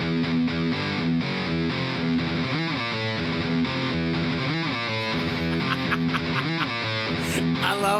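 Heavily distorted electric guitar drives through an intro riff, punctuated by offbeat accents and triplet figures, loud and dense with a full band texture throughout.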